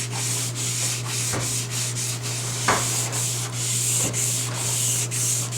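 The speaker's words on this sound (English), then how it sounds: "clean this all up with a little bit of 220 sandpaper. So I give it a quick sand just to blend everything together" Steady back-and-forth rubbing of 220-grit sandpaper along a ski edge sidewall, close and continuous with a faint hum underneath and no talking.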